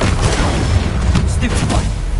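A Confringo fire spell in Hogwarts Legacy bursts loudly in a dense, crackling blast of fiery booms and rumbling noise that fills the whole moment, with a voice heard speaking over it.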